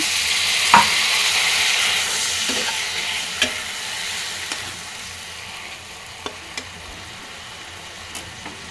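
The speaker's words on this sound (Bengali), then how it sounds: "এটাকে আমি ভালোভাবে কষিয়ে নেব" Salt, turmeric and cumin powder spice paste with a little added water sautéing in a pan, a steady close sizzle broken by sharp scraping taps as it is stirred now and then.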